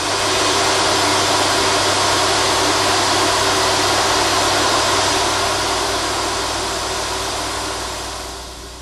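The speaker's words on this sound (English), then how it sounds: "A 220 engine at full bore on the dynamometer, roaring with power as its twin turbos glow red hot" Jaguar XJ220 twin-turbo engine run at full power on a dynamometer, a loud, sustained, dense roar holding steady throughout and easing off slightly at the end, with no voices.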